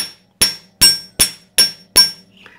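A chasing hammer strikes jewelry wire on a steel bench block in five sharp, evenly spaced metallic taps, close and loud, each ringing briefly before fading, then a faint scrape.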